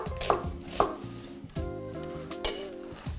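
A knife cuts an onion into large half-rings for rassolnik soup with dried mushrooms, striking the board with a few sharp, irregular chops over a low kitchen hum.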